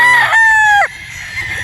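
A brood stag, a young rooster, crows once, loud and close, with a drawn-out cock-a-doodle-doo that ends abruptly, followed by quiet farmyard background.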